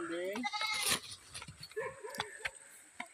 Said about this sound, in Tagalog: Ay, kambing. Ang kambing.